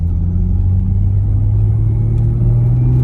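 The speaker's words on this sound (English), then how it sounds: "we're going to do a third gear pull from that RPM" Toyota Landcruiser fitted with a bigger Garrett turbo pulls hard at full throttle in third gear from low revs, its engine a loud, steady, close-up drone that holds a constant deep rumble throughout with no talking.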